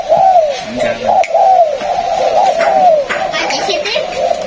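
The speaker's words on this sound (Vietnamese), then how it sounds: "Nè, con này nó đổ nè." A captive spotted dove at a bird keeper's home in U Minh coos close by in a repeating series of soft rolling phrases, with faint voices in the background.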